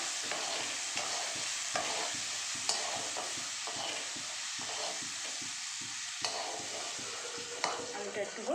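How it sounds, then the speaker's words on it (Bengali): Potatoes frying in a pan, a steady soft sizzle with repeated scraping stirs of a spatula at a close, moderate level. "ভালো করে আলুটাকে একটুখানি ভাজা ভাজা করে নেব।"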